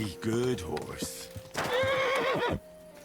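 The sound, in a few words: horse neighing and hooves, video game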